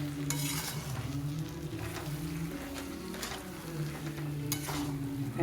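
Pigeon pea grains fry in a pan, giving a continuous close sizzle broken by repeated scraping stirs at irregular intervals.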